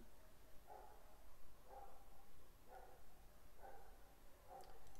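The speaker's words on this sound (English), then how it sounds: "dogs are barking" Several dogs bark in five separate bursts, spaced about a second apart, at moderate distance over a steady background hum.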